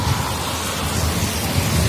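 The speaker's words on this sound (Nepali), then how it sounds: "कस्तो पानीको चर्र आवाज आएको यार।" Heavy rain falls at night as a dense, steady hiss, close and unbroken throughout the short stretch.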